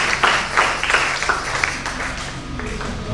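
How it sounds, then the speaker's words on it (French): A church congregation claps together in a steady rhythm during a French-language service, with regular beats of applause, fairly close and continuous. "On applaudit les Seigneurs de votre Dieu."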